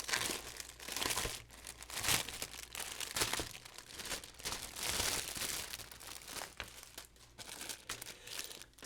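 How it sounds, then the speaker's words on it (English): Plastic sprues from an Ammo 1:48 MiG-17 model kit crinkle and rattle in continuous close bursts of scratchy crackling, handled alone without voices. "sorry for the rattling. It's quite scratchy plastic."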